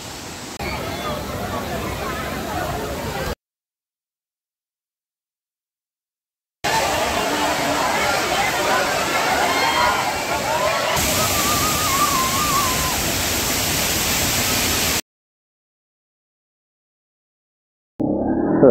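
Kempty Falls in Mussoorie pours as a dense, steady roar of falling water, cut off by two stretches of silence and resuming again, with faint crowd chatter mixed into the rush.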